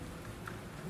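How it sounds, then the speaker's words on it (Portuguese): Rain falls steadily as an ambient effect in a horror story narration, a soft continuous hiss of drops on a surface, quiet and without any speech. "somente o som da chuva"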